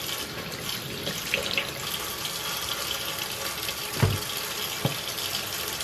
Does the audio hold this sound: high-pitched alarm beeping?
no